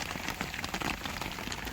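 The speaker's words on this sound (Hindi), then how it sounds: "बारिश हो गई है बिल्कुल मूसलाधार स्टार्ट" Heavy monsoon downpour drumming steadily on a tarp or sheet, a dense, continuous hiss of rain close by with no talking.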